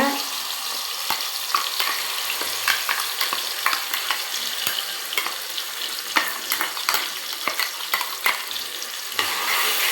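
Tomato and ground chili powder fry in hot oil for a fish kuzhambu, a loud, continuous sizzle broken by frequent sharp scraping and clattering as the mixture is stirred, close by and without voices.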